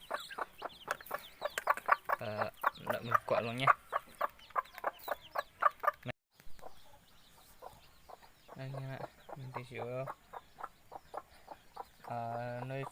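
A jungle fowl hen with newly hatched chicks clucks in short repeated bursts while the chicks peep, close by, with someone talking between and over the calls.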